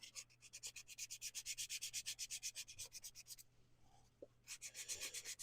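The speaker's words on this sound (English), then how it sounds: "A little bit of minor sanding here." Sandpaper rubs steadily against a turned wooden bowl spinning on a lathe, a rapid rhythmic rasping that pauses briefly before resuming, close and clear with a low steady motor hum underneath.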